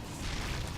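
Photon cannons firing on a flock of Mutalisks in StarCraft on Metalopolis: a short, dense rumble of booming bursts and pops, loud and continuous with no voices.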